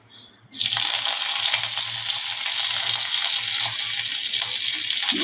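Mustard seeds and curry leaves hit hot oil for tempering and burst into a loud, steady crackling sizzle close up. A quieter moment comes before they go in, and the frying then holds at full strength.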